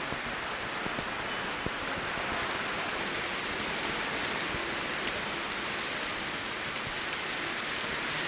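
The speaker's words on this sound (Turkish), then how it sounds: "Gördünüz mü nasıl yağmur yağıyor?" Steady rain falls, a dense even hiss of drops spattering on surfaces, continuous and moderately loud with no talk over it.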